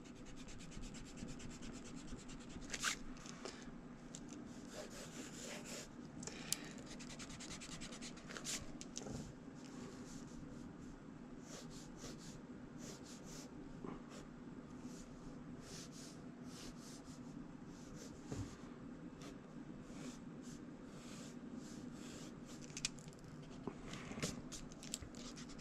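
Pencil sketching on paper during a graffiti lettering practice session, a steady soft rubbing and scratching of strokes with occasional sharper scrapes, running continuously at low level under faint background music.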